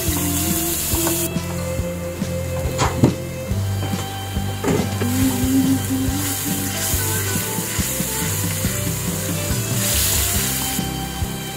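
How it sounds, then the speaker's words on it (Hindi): Tadka tempering for dal makhani sizzles steadily in a hot pan, a continuous hiss with scattered crackles and a few spoon clinks and scrapes, close and moderately loud with no talk. "चलो अब हम इसको लगाते हैं तड़का।"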